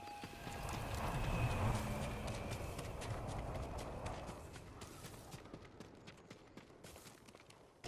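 Horse hooves in Ghost of Tsushima clip-clop steadily at a trot over a busy, loud ambient background, fading slightly toward the end.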